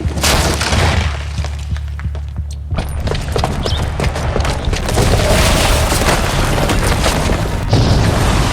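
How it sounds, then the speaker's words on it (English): A bomb booby trap detonates in Horizon Zero Dawn, a loud sustained boom with crashing, shattering debris rumbling on for several seconds at full volume, with no speech. "the booby trap on the bomb downstairs is gonna get set off"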